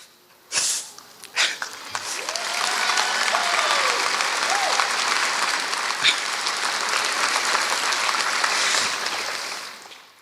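Crowd applause at a 2024 Chabot College commencement ceremony swells after a couple of sniffs and handling bumps, then holds as a loud, sustained wash of clapping for about eight seconds before tapering off.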